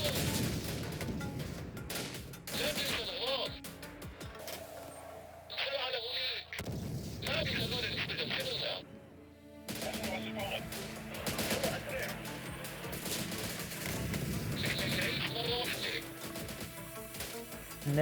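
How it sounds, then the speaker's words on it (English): Mortar and artillery fire in the war game Syrian Warfare during urban combat, with repeated booms and crackling gunfire throughout, under a talking voice. "And there's our mortars."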